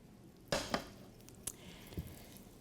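Wet and dry ingredients for a sugar-free, gluten-free birthday cake are stirred together in a bowl, a few soft scraping knocks and clinks, quiet and close, with gaps between strokes.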